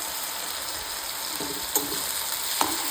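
Raw plantain pieces sauté in hot oil in a pan, a soft continuous sizzle with a couple of faint clinks and stirring scrapes, close and fairly quiet, with no voices.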